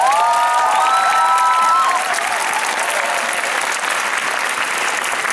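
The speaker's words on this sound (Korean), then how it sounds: "동생들한테 다시 한번 큰 박수 보내주리겠습니다" A crowd at a live performance gives loud, steady applause with high cheers and shouts near the start, the clapping continuing densely to the end.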